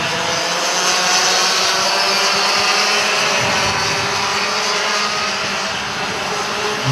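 Racing go-kart engines in a Clubman Pro kart race at an Adelaide kart meeting, a loud, continuous high-pitched buzzing drone with little variation, as if karts pass close by.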